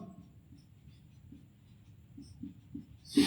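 Pen scratching across paper while working through a class 10 trigonometry problem, a quiet run of soft strokes and taps that ends in a louder brush at the close.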